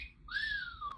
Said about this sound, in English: Whistling, yeah.